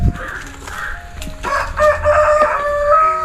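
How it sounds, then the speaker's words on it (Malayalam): A rooster crows near a hut in a rural setting, a loud close call rising partway through, with softer clucking and fowl sounds before it. "കോഴിച്ചാത്ത കൂവുണ്ട്."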